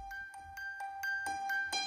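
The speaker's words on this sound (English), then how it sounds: "moving on to the music box and plucked piano." Music box patch from a SonuScore sound design library, a quiet run of thin, bell-like plucked notes in a steady rhythm, each ringing briefly with a metallic shimmer.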